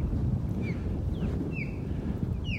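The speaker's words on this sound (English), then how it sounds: "Very windy, sorry about that, but the wind is a good thing." Strong wind on a beach in North Naples, Florida buffets the microphone in a continuous low rumble, with faint bird calls drifting in and out.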